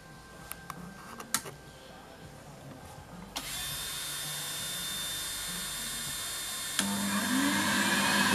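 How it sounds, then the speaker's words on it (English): A Podomonium Jimbo nail drill with built-in vacuum switches on partway through, its steady motor whir and suction hiss rising louder and holding a constant high-pitched drone, preceded by a few faint clicks. "I will also show you how to use the vacuum"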